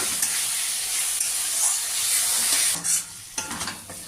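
Spice paste and half-cooked potatoes frying and being stirred in a pan, a loud continuous sizzle with spoon scrapes and a few sharper clatters toward the end.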